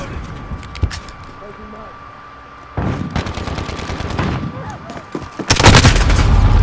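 Gunfire in the video game Call of Duty Modern Warfare, sharp single shots and then dense rapid bursts that swell to loud sustained fire near the end, mixed with a player talking.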